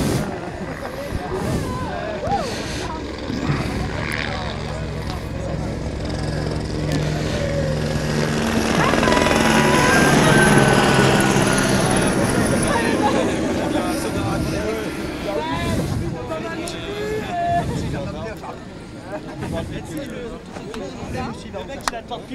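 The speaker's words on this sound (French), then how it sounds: "l'hélicoptère repart" A gendarmerie or fire service helicopter takes off from a supermarket car park in Caudry at a road safety event, its rotor chop and engine roar building to a peak midway, then gradually fading as it moves away, with a voice talking throughout.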